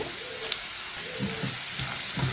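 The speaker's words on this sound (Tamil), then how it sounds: "நல்லா ஃப்ரை பண்ணிக்கோங்க இதுலேயே பாதி வெந்துடணும்" Pumpkin pieces frying in a pan, a continuous crackling sizzle close up with faint intermittent stirring scrapes, no voices over it.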